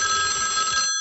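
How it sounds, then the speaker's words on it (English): A telephone line rings continuously at a camp weekend, a steady bright electronic ring heard close and alone for about a second. "Oh, my line's ringing."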